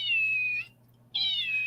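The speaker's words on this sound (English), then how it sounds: "I just love its little meow meow." Kitten meowing twice, each a thin high-pitched drawn-out meow lasting about half a second, separated by a brief silence, close and clear over a low steady hum, with no talking.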